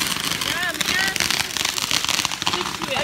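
New Year's Eve fireworks or firecrackers crackle and pop in quick bursts under excited talking and cheering close by.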